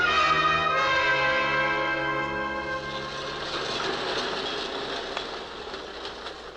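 A subway train rumbles as a radio drama sound effect, opening with a sustained horn-like tone that fades into a steady rolling rush of wheels and carriage noise, loud and close throughout.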